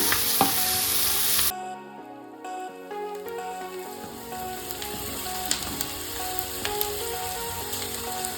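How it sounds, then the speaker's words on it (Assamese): Onions fry in a pan with a bright, loud sizzle at first, then softer crackling and popping continue under tuneful background music. "পিঁয়াজখিনি পিংক কালাৰ হোৱালৈকে মই 3-4 মিনিট ভাজি ল'ম।"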